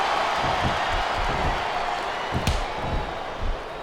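Arena crowd in the WWE SmackDown vs. Raw 2007 wrestling video game on Xbox 360, a steady roar of cheering with rhythmic swells and a sharp slam-like impact midway, no talk over it.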